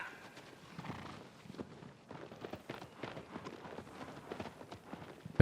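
Horse Agro's hooves clip-clop in Shadow of the Colossus, a steady run of close, moderately loud hoofbeats with an occasional louder thud, heard alone without speech.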